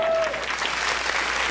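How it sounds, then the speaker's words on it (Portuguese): A crowd claps at a fifteenth birthday party, a loud, dense burst of applause up close with a brief tonal sound at the start, continuing evenly throughout. "Vamos aplaudir, senhoras e senhores"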